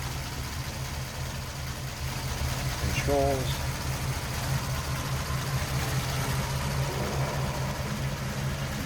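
A restored 1949 Ford Custom convertible's 8BA flathead V8 idles smoothly and steadily with a low, even rumble, while someone talks over it.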